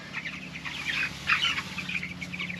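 Broiler chickens in a coop with a heat lamp, giving soft scattered clucks and chirps throughout, fairly faint and steady over a low background hum, with no talking.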